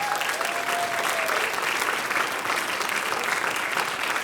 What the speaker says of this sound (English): Please join me in a round of applause for all the honor choir students.